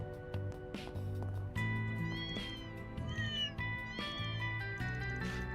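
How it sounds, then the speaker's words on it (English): Several cats meow repeatedly in Trails through Daybreak II, high drawn-out cries overlapping one another in quick succession over a steady game music backdrop. "Kitty cats!"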